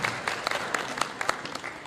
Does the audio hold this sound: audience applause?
yes